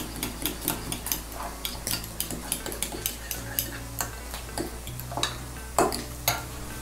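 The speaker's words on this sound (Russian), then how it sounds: "И все это дело перемешиваем." A spoon stirs sour cream with grain mustard in a bowl, making a quick, regular series of light clinks and scrapes, close and fairly quiet.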